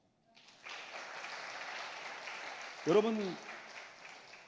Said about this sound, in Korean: 청년들 학생들 박수 쳐